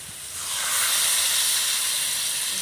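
Water poured into a hot pan of jackfruit and prawn curry bursts into a loud, steady hiss that swells within the first second and holds, close and alone.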